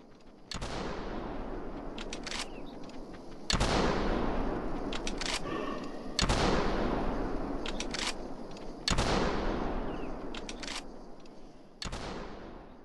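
Five loud 10 gauge shotgun blasts fired at a flock of geese in theHunter Classic ring out at a steady pace, each with a long, echoing decay that fades before the next shot.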